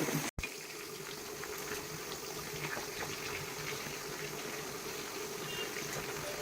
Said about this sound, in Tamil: இப்போ கடாயில் எண்ணெயை ஊற்றி சிக்கன் 65 போட்டு பொரித்து எடுத்துக்கோங்க